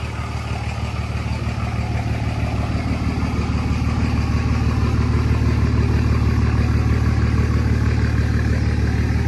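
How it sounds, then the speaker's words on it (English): A truck's heavy engine rumbles steadily and loudly close by while towing a 1941 John Deere Model B farm tractor, a constant low drone with no speech over it. "We got the street tractor pulling the farm tractor"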